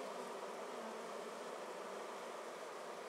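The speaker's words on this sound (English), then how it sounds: "let's try holding it really close to the bees that are going in the entrance right now" Bees buzz steadily at the entrance of a simple flowerpot swarm bait hive, a dense continuous insect hum heard up close, with no voices.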